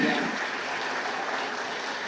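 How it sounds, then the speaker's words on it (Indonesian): Steady applause at a political party event announcing mayoral candidates, a dense wash of clapping that continues evenly throughout. "Kita berikan tepuk tangan yang meriah"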